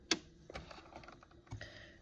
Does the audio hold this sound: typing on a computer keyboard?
yes